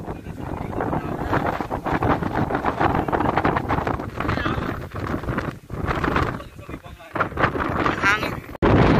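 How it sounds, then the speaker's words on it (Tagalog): Strong wind at a hilltop view deck in Bulacan buffets the microphone in continuous rumbling gusts, with people talking over it throughout. "Ang hangin."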